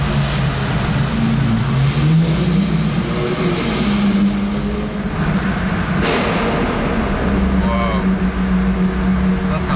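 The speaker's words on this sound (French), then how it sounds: "Échappement complètement libre. Il fait un bruit là dans les tunnels." Matte blue Ferrari 812 GTS with a Novitec straight-pipe exhaust, its engine droning and rising with revs inside a tunnel, loud and continuous, with people talking over it.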